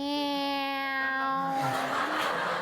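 A human voice imitates a sad cat meow in one drawn-out, wavering cry that slides down in pitch and fades into breathy noise, close and clear.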